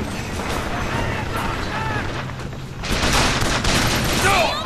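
Gunfire in the video game Bioshock Infinite, a dense burst of rapid shots and mechanical clatter mixed with game effects, with a voice speaking over the action.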